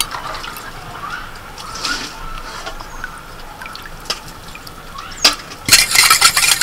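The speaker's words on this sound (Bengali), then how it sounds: "অর্ধেকটা দিচ্ছি পাতিলেবুর রস।" Lemon juice trickles into a watermelon juice mixture with sugar and pepper, a soft, close liquid pour with faint splashes, ending in a brighter, louder burst of splashing.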